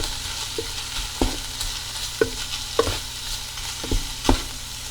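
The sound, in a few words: stirring taco seasoning mixture in a pan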